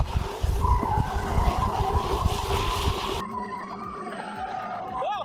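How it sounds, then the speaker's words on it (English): Roller coaster cars drift through the corners at Suzuka Circuit, Japan, with a loud, tire-like squealing rumble that drops abruptly to a quieter, thinner whine about halfway through. "If you drift well in the corners, your speed will increase and make the ride even more intense."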